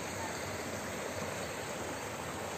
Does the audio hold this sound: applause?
no